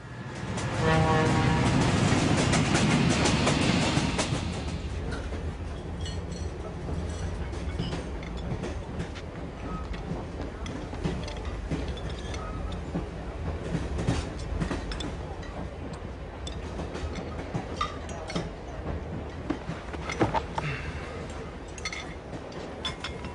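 Continuous rumbling of a train moving on rails, with faint clicks and rattles; a louder burst at the start fades into a steady roll.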